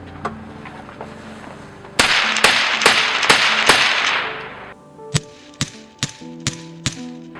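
Several 5.56 rifle shots are fired at night through a silencer, roughly an 8-inch can. They come as sharp, close cracks, a fast cluster followed by a slower string of evenly spaced single shots.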